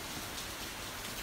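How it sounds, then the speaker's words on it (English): Steady rain falls, a continuous close hiss of drops striking a surface, even and alone for the whole moment with no voices. "I hear the rain sounds awesome."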